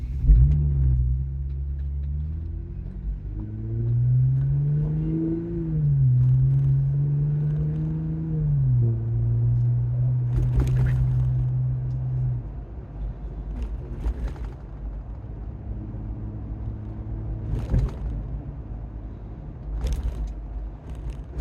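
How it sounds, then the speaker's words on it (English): A vehicle fitted with a Teraflex Falcon Nexus 2.2 steering stabilizer drives over potholes and rough roads, its engine droning and shifting pitch while sharp thumps and jolts from bumps break through at intervals, with no talking. "we're going to go for a little drive around the block where we'll hit some potholes, some rough roads"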